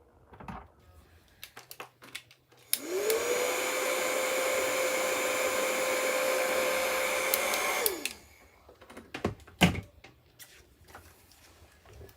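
A handheld blow dryer switches on with a rising whine, runs steadily for about five seconds drying chalk paste on a craft project, then winds down, framed by small tapping and handling noises.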